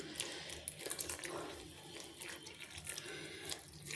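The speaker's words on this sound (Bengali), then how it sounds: "এবার বন্ধুরা আমি নর্মাল জল দিয়ে দিচ্ছি।" Plain water trickles and pours steadily into a bowl of flour and salt to make pitha batter, a continuous close splashing stream with no talking.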